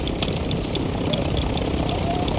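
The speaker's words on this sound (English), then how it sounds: "Oh, it's got a helicopter landing on me over here." A helicopter lands in Call of Duty Modern Warfare 2 DMZ, its rotor and engine producing a steady, loud whirring drone that fills the clip, with faint game voices underneath.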